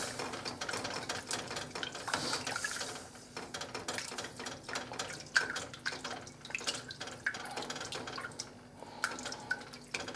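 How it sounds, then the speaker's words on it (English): Milk added to a thickened lasagne sauce as it is stirred in a pan: quiet, rapid clicking and scraping taps with faint liquid sounds, close and continuous. "And then add about half of the milk."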